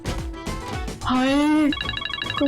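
A telephone rings in a domestic TV drama scene, with a sustained electronic ringtone and warbling tone pattern following some close talking voices.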